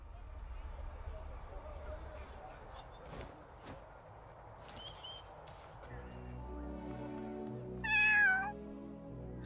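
A small cat meows in the Duet Night Abyss video game, one drawn-out, wavering call near the end, close and fairly loud over busy game ambience and footsteps.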